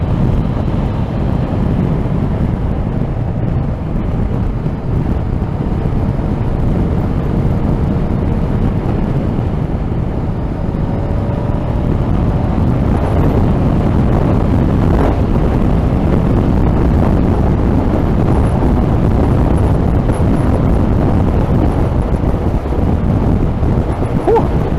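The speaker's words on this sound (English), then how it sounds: "Whew, that wind, blimey. Really feel that." Strong outdoor wind batters the microphone, a loud continuous roaring rumble that holds steady throughout with no break.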